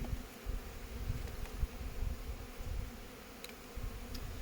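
A steady, low buzzing hum of many honey bees at an open hive fills the air close up, continuous and even, with no voices.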